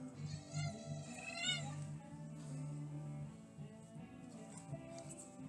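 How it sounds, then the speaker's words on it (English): A cat meows indoors, with two rising, wavering calls early on over a low steady hum, fairly faint and with no talking. "I see the big cat. She has her bully face on."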